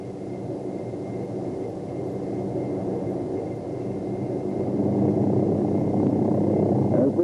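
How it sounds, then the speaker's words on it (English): A Hughes OH-6 helicopter makes a maximum performance takeoff, its steady rotor and turbine drone building and growing louder over several seconds. "As we watch a maximum performance takeoff, we can readily see that the maneuver differs from normal takeoff"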